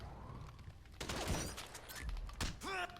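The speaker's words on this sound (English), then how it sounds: "Go ahead and pull out our shotgun." A shotgun fired during a GTA heist, with several loud booming blasts in quick succession, heavy thuds and sharp ricochet-like whines between shots, set against busy in-game background noise.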